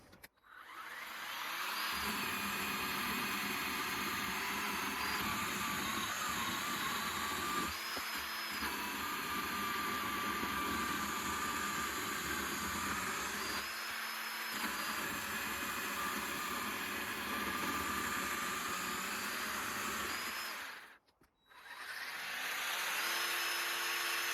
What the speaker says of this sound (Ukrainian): Пиляти я буду суху гілку яблуні, яка вже полежала, певне, з півроку.